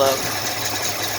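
A 1983 Ford Mustang Fox-body engine idles on a newly fitted replacement carburetor, giving a steady, fairly loud running drone with an even rough texture across the whole short stretch.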